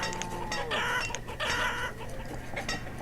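A flock of chickens in the city-builder game Banished clucks steadily, with bursts of overlapping calls and short cackles coming close together and fairly near.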